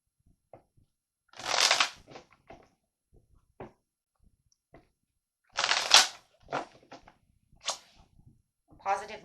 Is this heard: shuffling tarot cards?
yes